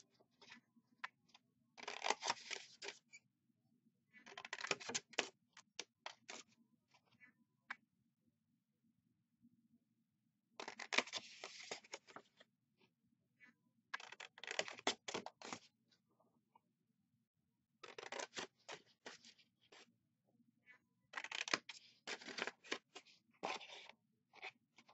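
Scissors snip the four small corners off a paper pinwheel card, giving bursts of short, crisp cutting clicks separated by quiet pauses, close and fairly soft, with no talking.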